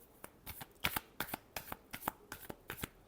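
A deck of tarot cards shuffled by hand in a quick series of crisp riffling bursts and taps, close and fairly quiet with no talking.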